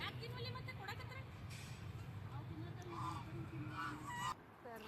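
Ducks gathered on a temple lake give repeated honking, quacking calls over a steady low rumble of boat noise, with people talking nearby throughout.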